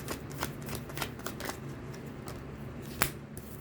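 Tarot cards being shuffled and handled close up, a run of soft riffling flicks and papery taps with one sharper snap near the end, no talking.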